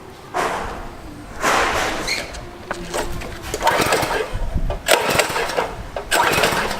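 A small, rusty petrol engine is pull-started with several separate yanks, each a short burst of rough mechanical whirring, while people talk nearby between the pulls.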